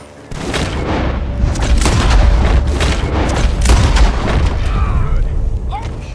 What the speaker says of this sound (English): Gunshots are coming from that.